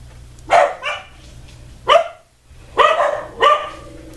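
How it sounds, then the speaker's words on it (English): Several dogs bark indoors in short, loud bursts, about four clear barks with gaps between them, fairly close, over a low steady background hum and with no talking. "We've got someone visiting, and my dogs are barking their little life away"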